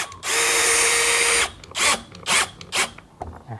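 A PUMA brushless cordless impact drill whirs steadily for about a second, then fires three short, punchy bursts as the screw is driven home.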